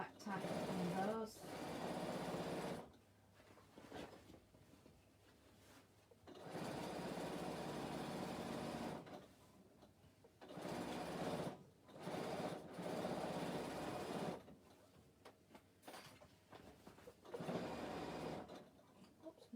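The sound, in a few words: sewing machine back tacking bag handles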